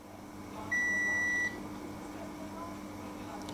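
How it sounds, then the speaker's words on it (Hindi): A smartphone multimeter in continuity-test mode gives one steady electronic beep of under a second over a constant background hum, with no talk during it. "यहाँ पर देखो इस बीप की कंटिन्यूटी देखेंगे"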